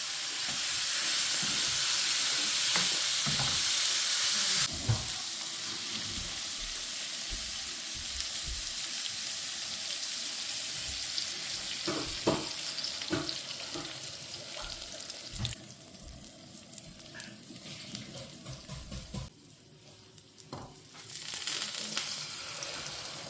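An egg fries in olive oil in a kitchen pan, a steady close hiss and sizzle with scattered crackles and pops, fading partway through and then briefly resuming.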